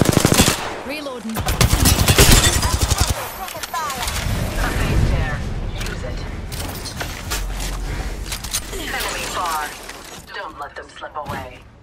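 Rapid bursts of automatic gunfire from an Apex Legends firefight, loud and dense early on, then continuing in shorter bursts under game voice lines and effects.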